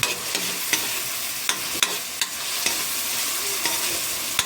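Adobong kangkong with tomatoes is stirred in a sizzling pan, a spoon scraping and clacking at irregular intervals over a constant, close frying hiss.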